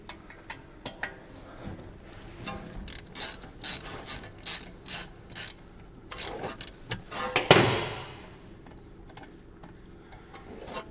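Hand ratchet fitted with a 7mm hex bit working on the rear brake bolts of a Jaguar XF, giving a run of quick, close mechanical clicks with a sharper metallic clack near the end, no talk.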